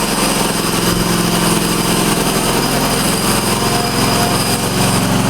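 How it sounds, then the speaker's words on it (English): Engine of a 2013 TRX-42 hydrostatic radio-controlled lawn mower running on a steep hill, a loud, steady, close droning hum with a constant high whine and no voices. "Now we're going to start the engine. Now we're going to throttle up, drive around."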